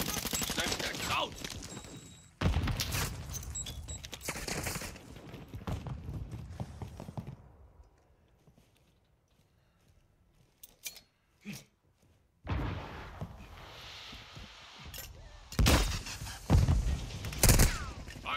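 Gunfire in the video game Call of Duty: Warzone 2.0 comes as loud close bursts of rapid shots, then drops out to near silence broken by a few isolated cracks before heavy firing resumes, with a voice briefly calling out between shots.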